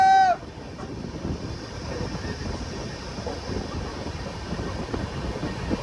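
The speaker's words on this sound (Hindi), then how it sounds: "फाइनली हमारा ट्रेन का रफ्तार बढ़ चुका है, स्पीड कर रहा है।" A continuous rumbling clatter of a moving passenger train picking up speed, steady and close, after a brief whistle-like tone at the start.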